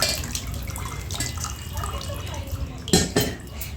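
Cold water splashes and trickles during a home puja, with a bright splash near the end over a busy background of dripping, clinking vessels and nearby voices.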